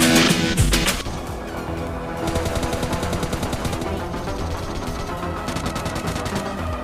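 Sustained automatic G36 assault rifle fire in the mobile battle-royale game PUBG Lite, rapid bursts of shots close and loud, following a sharper burst of noise at the start.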